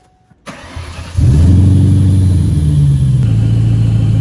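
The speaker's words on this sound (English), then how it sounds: "this car is ready to be fired up" A supercharged Ford Mustang Bullitt engine with new Magnapack exhaust mufflers cranks and fires up, then settles into a deep, steady idle with a slight rev, close and loud.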